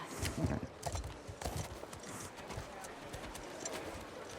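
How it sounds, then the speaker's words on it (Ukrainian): Horse hooves clip-clop in The Last of Us Part II at the stables, a steady run of near hoofbeats over a busy game background. "Прибувши до конюшень, отримуємо собі коня"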